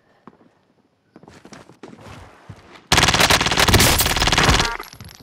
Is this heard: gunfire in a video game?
yes